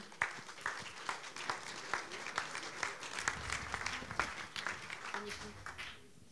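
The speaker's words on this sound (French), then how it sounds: "Et merci de l'applaudir." An audience at an architecture conference gives a sustained round of applause for a speaker, dense clapping at moderate level that tapers near the end, with murmuring voices underneath.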